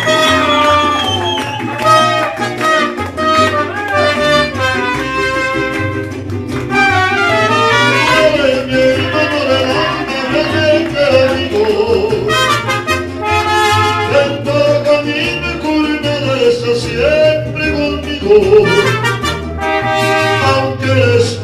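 A mariachi band plays a song at a birthday party, with trumpets and strings carrying a full, loud melody over steady bass accompaniment, continuous throughout.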